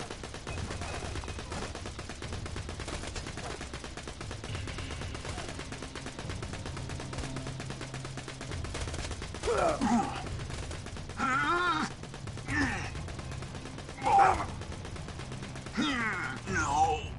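Pistol fire in the video game Borderlands 2, a string of sharp separate shots spaced irregularly over steady game background, mixed with other combat effects and occasional voices, moderately loud.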